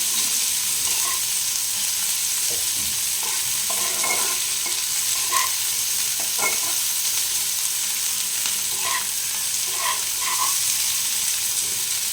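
Chopped onions fry in oil in a pan for a ridge gourd and prawn curry, giving a loud, steady hiss throughout with repeated light scraping and clicking as a spatula stirs them.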